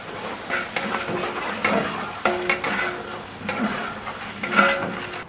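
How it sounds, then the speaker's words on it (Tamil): Onions hit hot oil in a large restaurant-style batch for chicken biryani, sizzling and crackling close by, with spoon-stirring scrapes and uneven bursts that swell and fade; no one speaks. "ஆயில் சூடாயிடுச்சு, வெங்காயம் போட போகிறேன்."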